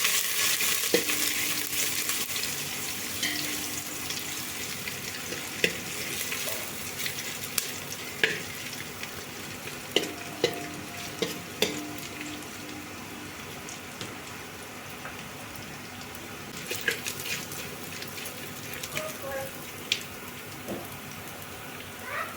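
Chopped ginger and garlic fry with a soft, steady sizzle in a cooking pot, punctuated by scattered clicks and scrapes of stirring, close up and without talk.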